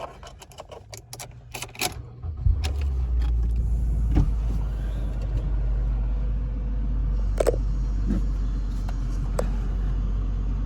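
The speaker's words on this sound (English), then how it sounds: "I'm just going to crank this aircon up" The engine of a Toyota Corolla starts, then the air conditioning is cranked up, settling into a steady low rumble and blower whoosh, with clicks and handling noises inside the cabin.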